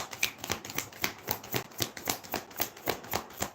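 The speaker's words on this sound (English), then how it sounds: "Please make my shuffling a bit easier." A deck of playing cards being shuffled at close range, a steady run of crisp riffling bursts repeating in a quick, even rhythm with no talking.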